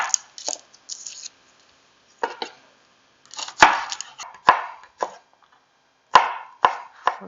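A garlic clove is chopped on a cutting board with a knife for braised lamb parmentier, a series of sharp, close, irregular chops separated by short pauses, with no talk.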